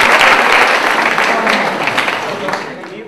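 An audience claps loudly for a quiz prize winner receiving a dining coupon: a dense, sustained burst of many hands that stays strong throughout, easing slightly toward the end.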